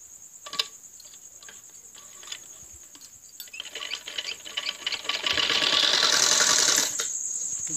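A sewing machine stitches the neck of a kurti with rapid, even ticking that speeds into a steady whirring run near the end, close and clear with no talk.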